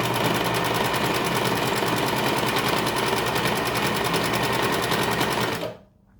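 A sewing machine winding a bobbin whirs at a fast, steady, loud pace, then cuts off abruptly near the end.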